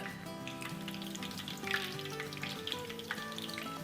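Bora chicken pieces frying in hot oil over a medium to medium-high flame, a steady close sizzle with soft crackles and a few brief pops, no talking.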